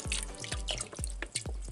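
Mango nectar pours over chicken in a 40-quart stainless steel stock pot, making a quick run of glugging, dripping splashes that repeat every few tenths of a second, close and fairly loud with no talking.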